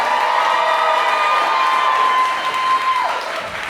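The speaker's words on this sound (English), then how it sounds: "a big round of applause to the only," A big live audience bursts into sustained cheering and applause for a guest at a podcast recording, loud and continuous with whoops throughout, fading slightly near the end.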